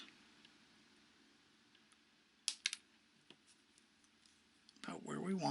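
Wire cutters trimming the ends of wire on a wire-wrapped pendant: two or three sharp, quiet snips close by against a faint room hush, followed by a louder rustle at the end.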